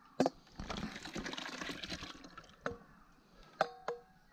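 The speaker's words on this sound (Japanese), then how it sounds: "こうやってまた帰ってまた冷たい水を入れる" Cold water pours and splashes over freshly boiled bamboo shoots in a kitchen container, a brief running fill followed by a few sharp clinks and drips.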